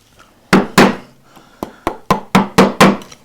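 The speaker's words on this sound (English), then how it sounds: "And then we can swap back to the flat gouge" A mallet drives a flat gouge into wood while carving large wooden letters, producing about nine sharp, close knocks at an uneven, steady pace, some in quick pairs, with no talking.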